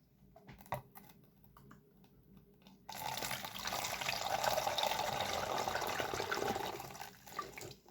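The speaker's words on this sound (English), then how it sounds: "pour some vinegar into my bottle." A few faint clicks and taps, then vinegar pours steadily into a plastic bottle, a continuous gurgling splash lasting several seconds before tapering off.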